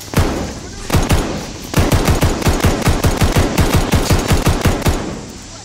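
Loud, close automatic gunfire in Call of Duty Vanguard: a few short bursts, then a long steady rapid volley of sharp evenly spaced shots that stops abruptly near the end.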